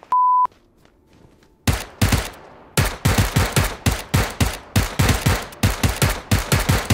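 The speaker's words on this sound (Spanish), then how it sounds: "estoy escuchando disparos medio cerca" A short beep, then rapid bursts of gunfire in PUBG on the Vikendi map in a steady stuttering rhythm, loud and close, with no talking.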